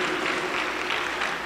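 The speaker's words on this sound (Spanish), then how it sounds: "Aplausos para el Señor Jesús." A Pentecostal church congregation claps together at a Wednesday healing service, a dense, even burst of applause filling the room for a moment.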